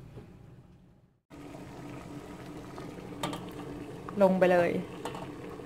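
A steamer of meatballs with basil leaves bubbles and hisses, with a burst of water and steam noise rising near the end. Someone talks over it.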